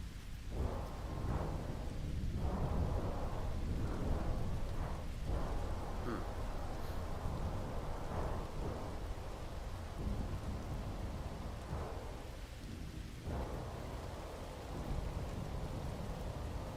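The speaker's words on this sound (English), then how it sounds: "Out into the storm." A thunderstorm with rain in the space game No Man's Sky: a steady, loud wash of rain throughout, with several low thunder rumbles rolling in and out across the span.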